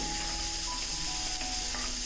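Steady sizzling of tomato and onion sautéing in a hot pan, a continuous close frying hiss with no voices.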